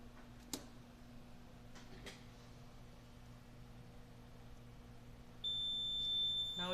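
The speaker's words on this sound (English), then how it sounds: "this is blinking and you can hear the alarm as well" An RTK P725 annunciator alarm sounds a steady, piercing electronic tone that starts abruptly near the end and holds on continuously. Before it there is a quiet room hum broken by a few faint clicks.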